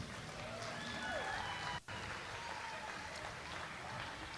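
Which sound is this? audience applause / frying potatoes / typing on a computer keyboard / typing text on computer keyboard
audience applause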